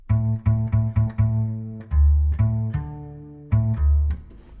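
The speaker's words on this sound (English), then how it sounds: "You see we have the double bass, which sounds like this." A reverberant double bass plays a rhythmic line of plucked low notes from a remix of the Limbus Company main menu theme, repeated notes with longer sustained ones between, clear and alone.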